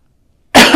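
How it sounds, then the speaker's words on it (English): A single sharp cough bursts out close to the microphone after a stretch of silence, short and loud with a rough, breathy tail. "I'm sorry about that cough."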